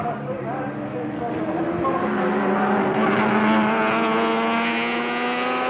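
Touring race cars from the 1983 Australian Touring Car Championship at Symmons Plains scream past with rising, sustained engine notes, one swelling nearer and louder mid-way, under a continuous race commentary voice.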